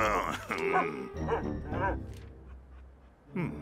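A cartoon dog barks and yips in short bursts amid spoken French dialogue, with the dialogue and barks overlapping throughout the scene.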